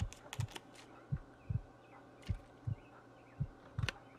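Steady game heartbeat in The Long Dark, a survival video game, with soft paired thumps repeating at an even rhythm, fairly quiet and alone with faint ambient hiss and scattered clicks.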